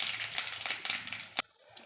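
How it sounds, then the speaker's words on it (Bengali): Mustard seeds hit a little hot oil in a heated wok with a close, steady sizzling hiss and scattered crackles, ending in a sharp pop before falling quiet. "তারপরে কড়াইতে সামান্য একটু তেল দিয়ে"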